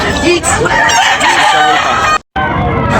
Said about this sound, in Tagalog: Ang manok na pula ni Busing.